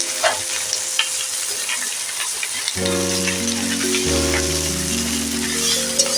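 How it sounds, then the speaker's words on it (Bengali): Chalkumra leaves stir-fried in a kadai: a steady loud sizzle and hiss of frying with stirring scrapes, joined by a sustained tonal hum partway through, no talking. "এইভাবে নেড়ে পাতাটাকে পুরো একদম ছোট করে নেব"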